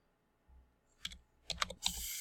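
Computer keyboard keys are tapped in a few quick, close clicks, starting sparse and then running together into a short burst of typing, with no one speaking.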